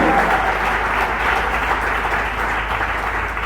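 A church congregation bursts into loud, sustained applause and acclamations, a dense wash of many hands clapping close by with no talking over it.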